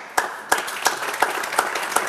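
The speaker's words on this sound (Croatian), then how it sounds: "Pa nije, zaista nije ni za aplauz." A studio audience on a television talk show claps in rhythmic, evenly spaced beats about every third of a second, moderately loud and steady.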